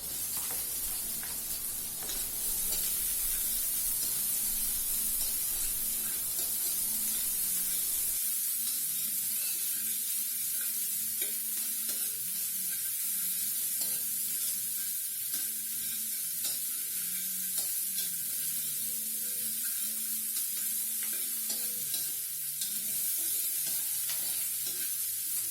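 Ginger sautéing and being stirred in a pan while cooking tinola, a steady close sizzle broken by repeated scraping strokes of the spoon against the pan, running the whole time with no talking.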